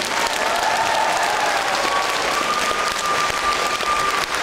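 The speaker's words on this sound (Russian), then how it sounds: "Аплодисменты для Лизы" A concert audience applauds at a charity concert, a steady, dense wash of clapping from many hands that holds loud and even throughout with no talk over it.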